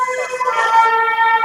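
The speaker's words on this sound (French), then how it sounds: "On va laisser passer les pompiers, ils vont sauver quelqu'un." A fire engine siren wails loud and close as it passes, its steady wavering tone dominating the street noise.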